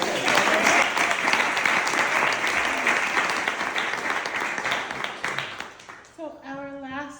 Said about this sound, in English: Another round of applause for Katie.